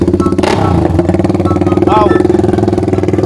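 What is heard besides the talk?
Honda Sonic 125 motorcycle engine revving, titanium exhaust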